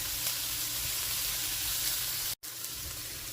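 Onions sizzle in butter in a pot, a steady close loud frying hiss that continues throughout with only a momentary break.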